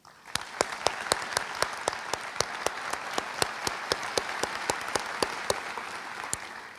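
An audience at the 2012 Missouri School of Medicine graduation gives steady applause, a dense wash of clapping with a few louder individual claps standing out, and no one speaking over it.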